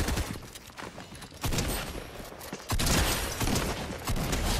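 Gunfire in the video game Fortnite Battle Royale: dense, loud, rapid bursts of shots crackle almost without pause, with the volume swelling in the second half.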